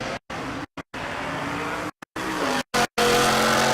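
Drag race cars launch from the start line at Race Week 2022 in Ennis, Texas, with a loud, close engine roar that builds steadily, broken by several abrupt dropouts.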